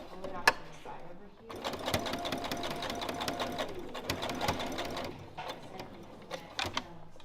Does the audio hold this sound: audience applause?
no